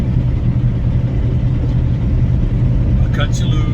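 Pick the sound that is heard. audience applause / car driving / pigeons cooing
car driving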